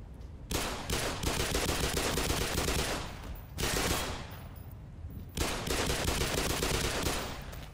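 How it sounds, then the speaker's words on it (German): Long bursts of loud, dense gunfire in the video game Black Mesa, three sustained volleys separated by short pauses, close and harsh. "Traue ich mich hier eine Granate durchzufeuern?"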